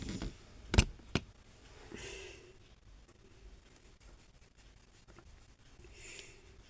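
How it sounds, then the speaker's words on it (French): Scissors snip through crochet yarn in two quick, close cuts near the start, followed by faint rustling of the yarn in a quiet room. "vous allez venir couper votre fil."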